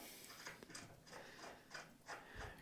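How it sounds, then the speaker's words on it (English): New chrome lug nuts are run onto a stepside spare tire mount with a ratchet, making a faint, steady series of rhythmic clicking strokes close by. "Run our brand new lug nuts on."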